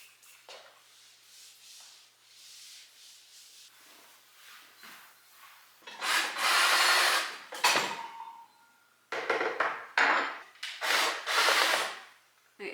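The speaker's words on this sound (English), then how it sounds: "I'm gonna sand it slightly, even though it is like particle board or whatever" Hand sanding scuffs a particle board cabinet nearby, starting as soft, quiet rubbing strokes and then turning to louder, rapid bursts of abrasive scraping with short pauses between them.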